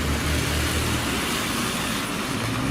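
A radio-controlled drift car slides around as its speed builds, producing a constant, fairly loud whirring rush of motor and tyres with no clear breaks and no speech.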